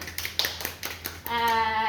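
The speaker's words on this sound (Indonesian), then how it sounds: "Tepuk tangan." A few quick hand claps sound in a mathematics classroom in praise of a student's answer, scattered and soft, followed by a brief tonal sound near the end.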